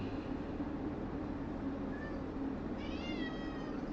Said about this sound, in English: He's meowing over here